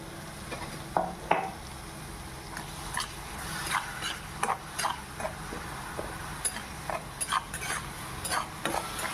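Bitter gourd being stirred in a pan, giving light repeated spoon scrapes and clinks over a faint background sizzle, close and fairly quiet.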